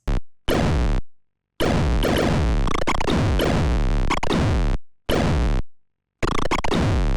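Harsh, noisy digital bursts from a 1990 third-person polygonal DOS action-adventure shooter, cutting in and out abruptly with silent gaps, loud and gritty like crude early computer game sound effects.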